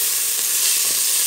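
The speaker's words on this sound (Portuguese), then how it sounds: "Já estou fritando o toicinho." Pork fat (toucinho) frying in its own grease in a pan without oil, a loud close sizzle with a steady crackling hiss and no talk.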